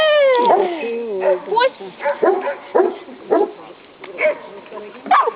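A dog yips, whines and barks excitedly in a series of close, high-pitched bursts, with eager whimpering between them.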